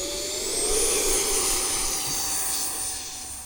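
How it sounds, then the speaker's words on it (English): An E-flite Habu 50mm EDF RC jet takes off outdoors, its ducted fan whining in a loud, rising high-pitched whoosh that swells and then fades as the plane climbs away. "Get this plane up in the air."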